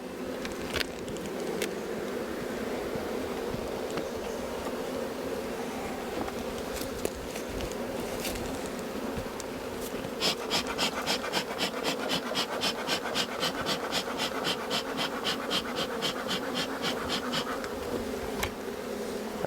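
Loud, steady buzzing of an angry, queenless honeybee hive up close, a dense continuous drone that picks up a rapid rhythmic pulsing in its second half.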